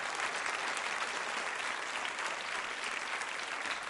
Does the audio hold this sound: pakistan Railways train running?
no